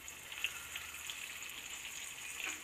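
Hellgrammites frying in a pan give a quiet, steady crackling sizzle with small pops scattered through it, alone with no talk.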